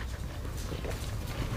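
A dog pants with soft whimpering close by, a steady breathy sound over a short stretch with no talk.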